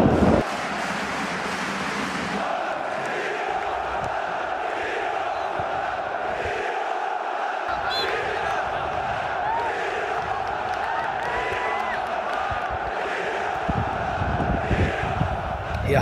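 Crowd noise from spectators in the stadium stands at a youth boys' school football match, a steady distant murmur with wind buffeting the microphone and a commentator talking over it.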